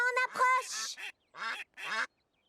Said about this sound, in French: Oh non, des canards sur les rails!